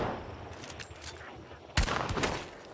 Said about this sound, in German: Ich habe einfach random irgendwo hingeschossen.